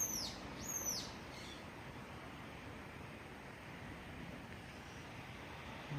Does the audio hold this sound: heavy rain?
no